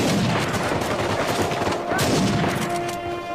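Rapid bursts of gunfire from the video game Uncharted 4: A Thief's End, set in Madagascar, crackle loudly and densely across the whole span with a few sharp louder shots, and faint talk mixed beneath.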